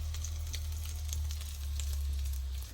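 Kofta kebabs sizzle steadily in a hot pan, a continuous close frying crackle with small pops, no voices.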